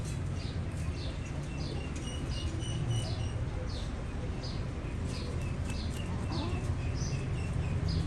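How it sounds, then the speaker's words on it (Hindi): Small birds and pigeons gather to peck at grain scattered on the ground, giving off quick repeated high chirps over a constant outdoor hiss. "कुछ जो चिड़िया वगैरह है वो भी आ गई हैं दाना खाने के लिए"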